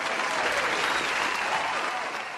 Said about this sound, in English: Hey, that deserves a cheer. Everyone cheer,